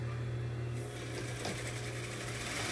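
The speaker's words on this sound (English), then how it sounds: "I'm just going to top stitch just maybe 2 inches" A sewing machine runs a short top stitch along the seam of a pant skirt, a steady close mechanical whir that starts and carries on without talking.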